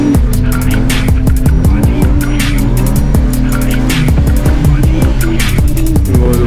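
A car drifting in a Czech drift session, its loud engine roaring and revving continuously while tires squeal and skid through repeated slides, close and unbroken throughout.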